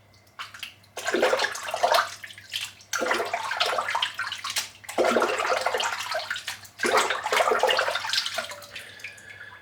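Running tap water rinses soap from a shaving brush in four long, splashy bursts separated by brief breaks, close and steady, with no voices.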